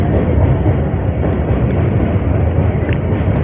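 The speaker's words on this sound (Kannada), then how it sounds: "goods train ಹೊಂಟಿದೆ" A goods train passing close by, heard as a loud, steady, continuous rumble and roar with wind-like noise throughout, with no talking.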